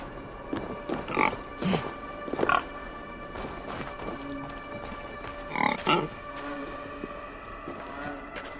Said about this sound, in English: I'm chilling with the pigs.